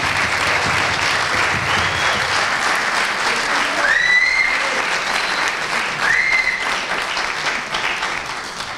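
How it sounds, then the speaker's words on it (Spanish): An audience applauds at a big band concert at a trombone festival in Peralta, sustained clapping that fills the hall with a few whistles cutting through before it thins out. "gracias también a Chus, por un aplauso"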